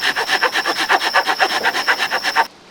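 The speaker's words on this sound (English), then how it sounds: "This is the worst pruning saw I've used." A cheap Harbor Freight pruning saw cuts slowly through wood while camping, its rhythmic back-and-forth rasping strokes close and steady, about a dozen even pulls before stopping abruptly.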